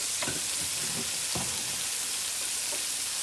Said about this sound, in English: vegan butter is sizzling like crazy.